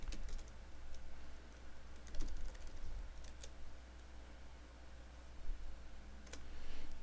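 Quiet typing on a computer keyboard at an air traffic control simulator desk, scattered soft key clicks over a low steady hum.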